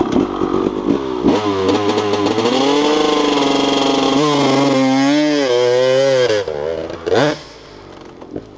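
Motorcycle engine pulling in second gear with smooth clutch control at a riding school, a loud close rising drone that climbs steadily in pitch, dips, then surges again before cutting off.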